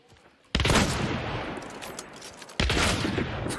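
Shotgun fire in a first-person video game, two heavy close booming blasts about two seconds apart, each with a long reverberating tail.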